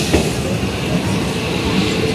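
Jan Shatabdi Express rolling into Tiruchirappalli Junction, a close, steady rumble of wheels and carriages with faint clatter throughout and no talking.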